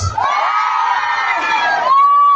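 Voices shout a long, loud, sustained cheer together, rising briefly before the yell carries on.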